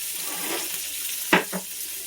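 Onions hit a hot pan for a creamy garlic chicken sauce, giving a sudden sharp sizzle and a smaller second burst over a quiet background hiss.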